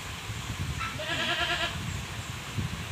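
Goats feeding on a farm give a single wavering bleat near the middle, set against a steady background of rustling and munching.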